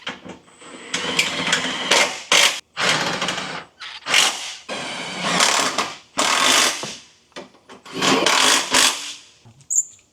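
Ratchet tightens new OEM suspension strap hardware on a 2006 Acura TSX, loud close bursts of rapid clicking repeated about six times with short pauses between.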